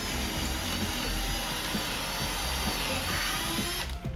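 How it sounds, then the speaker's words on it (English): A power drill whirs steadily and loudly without pause, boring holes into wood for eye bolts, then cuts out abruptly at the very end. "now we're just drilling some holes to mount our eye bolts for the ratchet straps"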